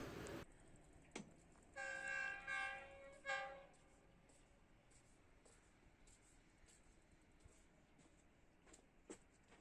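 A Pakistan Railways 101UP rail car passes and sounds its horn in a few loud, sustained blasts, followed by a quieter rolling rumble as it moves on.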